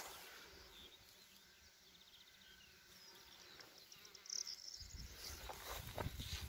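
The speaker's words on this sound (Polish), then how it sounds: "Naprawdę dużo pszczół." A soft, continuous hum of many bees buzzing over a field of nectar-rich pollen plants fills an open outdoor space, faint and steady, with a few louder passes near the end.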